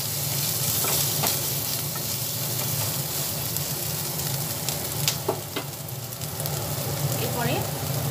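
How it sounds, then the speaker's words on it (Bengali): Chopped green chillies and other ingredients fry in a pan for an egg dhoka while being stirred: a steady close sizzle with scraping spatula strokes and occasional louder crackles throughout. "এক এক করে সব দেওয়ার পরে নাড়াচাড়া করে নিচ্ছি।"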